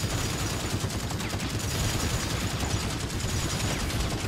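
Rapid sustained gunfire from a weapon in a first-person shooter video game, a dense continuous burst running through the whole stretch at steady loudness with no talk over it.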